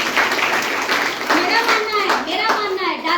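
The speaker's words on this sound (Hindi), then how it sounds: "ताली बजा दीजिए।" Clapping from the audience at a direct-selling company success meeting, loud and close, with people talking over it.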